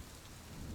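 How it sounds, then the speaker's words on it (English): Rain and wind sweep past in a street scene from a game, a faint, steady wash of falling rain with a low rumble and no voices. "rain and wind hitting you directly in the face"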